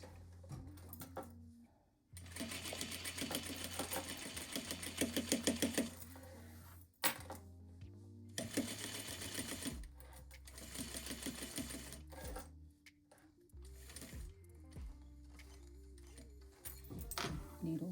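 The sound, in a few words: sewing machine stitching a zippered pouch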